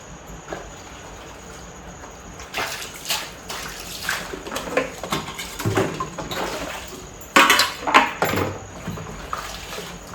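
Dog food bowls being washed by hand with water, giving running and splashing water with repeated clanks and scrubbing bursts of the bowls, close and moderately loud.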